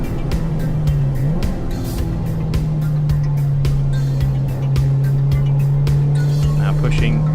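A Ford Fiesta ST fitted with Mountune inlet cams and exhaust, driven hard on a race track, holds a loud steady engine drone with rapid ticking, recorded from inside the car.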